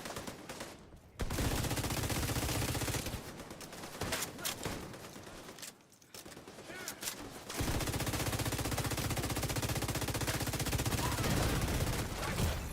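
Automatic gunfire in the shooter The Division 2 rattles in long, loud, continuous bursts. Two brief pauses break the firing, probably while the weapon is empty or reloading.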